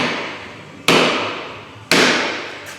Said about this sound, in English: We're gonna give it some love taps with that fancy green hammer.